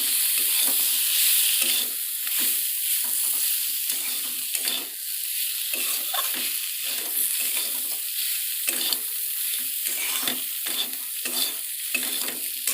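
Chhatu mushrooms with cumin paste sizzle in a pan while a spatula stirs and scrapes in quick irregular strokes, a steady close frying hiss running underneath.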